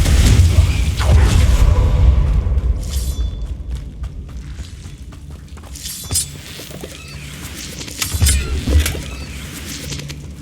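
In Hogwarts Legacy, a Confringo spell explodes with a heavy low boom at the start, followed by rumbling debris, shattering cracks and smaller impacts, with another thumping burst near the end.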